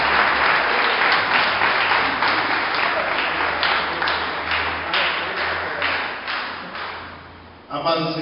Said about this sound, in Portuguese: Pode aplaudir ao Deus Todo-Poderoso bastante